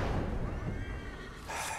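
A horse in the Assassin's Creed 3 video game lets out one loud, close, shrill whinny that wavers and falls away, with a faint thud of hooves underneath.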